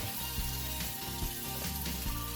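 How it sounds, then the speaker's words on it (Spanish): Beef frying in a sofrito of spices for Cuban ropa vieja, a steady close sizzle with soft stirring knocks in the pan. "paso a sofreír la carne para que se logre mezclar bien"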